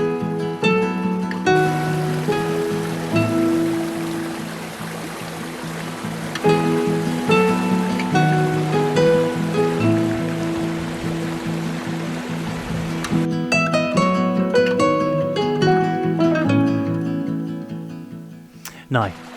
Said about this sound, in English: beautiful gems of cascading water